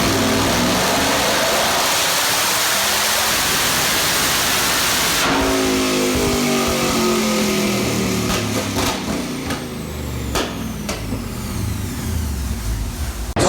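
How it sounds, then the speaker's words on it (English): A Camaro engine on a dyno making a pull on a 150-shot of nitrous, a loud sustained roar that rises in pitch and then breaks off with sharp bangs and the engine winding down. "We're going to do the first pull on nitrous."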